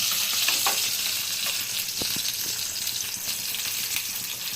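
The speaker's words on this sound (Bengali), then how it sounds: "বেগুনটা মনে হয় কড়াই ভাজা হয়ে গেল।" Eggplant frying in oil in a kadai, a steady close sizzle with a few brief crackles and pops throughout, no voices.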